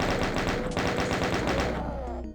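A chaingunner fires its machine gun in Doom 2, a loud, fast stream of repeated shots that lasts about two seconds and then stops abruptly.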